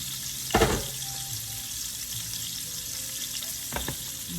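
Garlic sizzles steadily in a hot pan as the heat is turned down, ahead of pasta going in, with two brief louder stirring clatters near the start and near the end over a continuous frying hiss.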